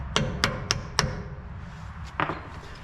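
A big hammer strikes metal while working on stuck bud nuts and brakes of an International 4700 truck: four sharp, evenly spaced blows, a short pause, then two quicker hits, all fairly close and alone.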